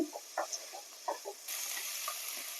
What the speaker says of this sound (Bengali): আদা রসুন টমেটোটাকে দেওয়ার পর আরও তিন চার মিনিট আমি কষিয়ে নেবো